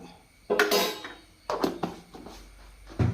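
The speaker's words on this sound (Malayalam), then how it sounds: "ഇതൊന്ന് ഇളക്കി കൊടുക്കാം." A spoon scrapes and clatters against a pan while grated coconut, chilli powder and Kashmiri coriander powder are stirred together, in a few short bursts with quiet gaps between them.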